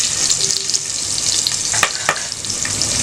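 Long-sliced green chillies drop into hot oil for chicken kola biryani, giving a steady close sizzle with a few sharp spattering pops.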